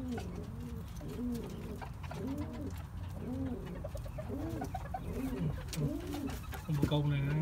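Pigeons in a coop coo repeatedly in soft, rolling, rhythmic calls while being fed, heard close and steady over a low background hum.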